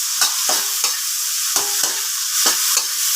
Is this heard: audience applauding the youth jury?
no